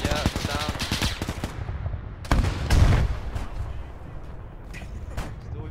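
Gunfire in a Stalingrad World War II video game: loud bursts of rapid shots in the first seconds, a heavier blast near the middle, then scattered fainter shots, with voices faintly underneath.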